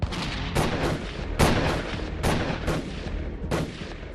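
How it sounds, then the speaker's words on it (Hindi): Gunfire on a busy Delhi street as attackers shoot at a car: five sharp, loud shots spaced irregularly over a few seconds, each cracking out over steady traffic and street noise, with no talk. "कार की अगली सीट को टारगेट कर फिर से फायरिंग करने लगते हैं।"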